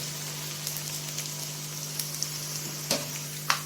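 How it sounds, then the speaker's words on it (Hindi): Onions with bay leaves frying golden in a pan, a steady soft sizzle under a constant low hum, with a few faint scattered spatula taps toward the end and no speech. "तो अब हम करते हैं प्याज को गोल्डन फ्राई।"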